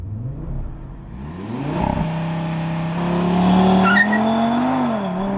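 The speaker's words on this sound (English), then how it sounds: "let's do the launch control and see what the new RS3 can do" A 2025 Audi RS3 performs a launch control start: the engine holds at high revs, then climbs through rising, strained acceleration with a brief gearshift dip. The run is loud and close, with no talking.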